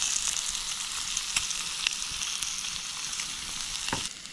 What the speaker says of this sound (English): Get them cooking in that butter.